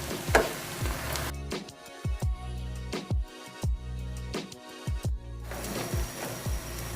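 A vegetable Chinese omelette cooks in a pan over an open flame, with a soft sizzle beneath a series of sharp, irregular clacks and scrapes from the utensil against the pan.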